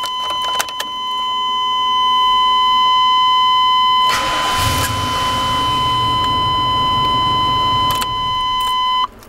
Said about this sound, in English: I'll show you again with the actual audio indicator showing ground.